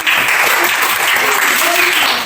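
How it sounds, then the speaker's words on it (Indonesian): A fourth-grade class claps for a student, with loud, dense, continuous applause from many small hands filling the whole short stretch. "tepuk tangan untuk Silviana."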